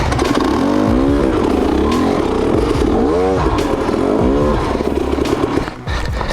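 KTM XC-W dirt bike engine revving and lugging as the rider climbs a steep, rough trail, throttle rising and falling in strong near bursts throughout, with clattering over rocks and a brief dip near the end.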